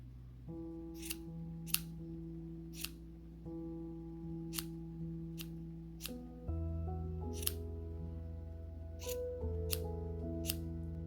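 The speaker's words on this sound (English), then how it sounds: "you just need to trim this ball to make it round" Scissors snipping around a yarn pom-pom, a series of crisp separate cuts at an uneven pace, close, over a soft steady background tone.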